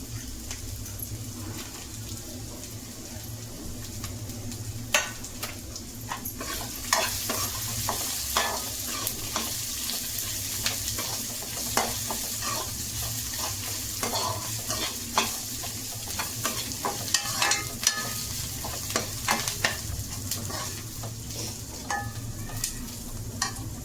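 Coriander seeds and dry red chillies frying in a pan while being stirred, giving a steady close sizzle broken by repeated scraping and stirring clicks throughout, with no talk.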